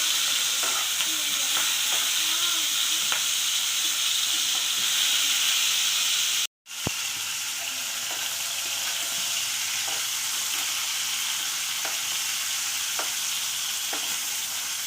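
Shrimp fry in a pan over high heat, giving a steady loud sizzle and hiss that runs nearly throughout, broken by one brief pause before the frying resumes with a sharp crackle.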